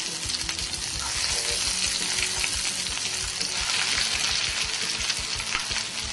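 Vegetables and greens stir-frying in sesame oil in a pan for a ramen stir-fry, a loud, dense, unbroken sizzle that stays close and steady, with no voices.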